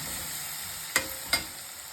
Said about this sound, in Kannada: ಅದನ್ನು ಸ್ವಲ್ಪ ಹೊತ್ತು ತಿರುಗಿಸ್ಕೊಟ್ಟು